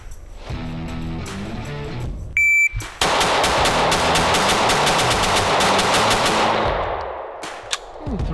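Rapid pistol shots from Sig Sauer and Canik handguns at a timed shooting drill, first a few shots, then after a shot-timer beep a fast string of loud, close reports that stops abruptly.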